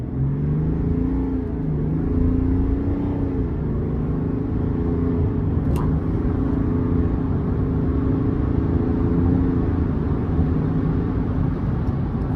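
GMC Sierra 1500 AT4 pickup with a Duramax turbo diesel accelerating hard, a steady loud engine rumble with gear-like pitch steps, heard from inside the cab with no talking.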